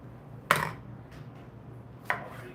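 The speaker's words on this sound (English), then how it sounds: "I'm going to quarter them to make the whole process a lot easier" A knife chops through tomatoes on a cutting board while they are quartered for blender salsa, giving two sharp, close thunks about a second and a half apart in an otherwise quiet kitchen.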